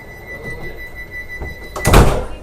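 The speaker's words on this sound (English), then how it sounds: "Doors are closing." Train doors on a Vande Bharat Express slide shut with a rumbling slide and a solid thunk at the end, heard close inside the carriage over steady cabin hum.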